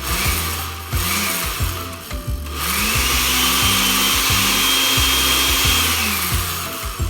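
Blender pulsing chickpeas for hummus, a loud close motor whirring in repeated short bursts with rising and falling pitch and grinding clatter, without talk.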